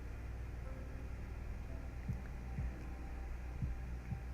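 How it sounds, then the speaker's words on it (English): A heartbeat sound effect from the visual novel Katawa Shoujo, with low thumping beats arriving in irregular pairs over a steady hum of background music, and no talking. "My heart is pounding now, as if it were trying to burst from my chest and claim this girl for itself."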